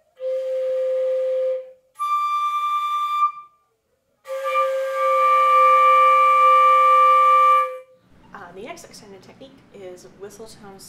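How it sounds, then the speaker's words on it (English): Several thin, pure flute whistle tones are held steadily with short pauses between them, followed by a person speaking. "Whistle tones / whisper tones"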